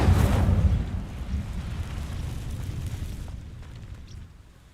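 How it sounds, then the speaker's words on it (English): In the Hogwarts Legacy video game, an Incendio fire spell ignites dry vines with a loud burst that fades into a crackling, rumbling burn and slowly quiets. "These dry vines are one spark away from becoming kindling. Incendio!"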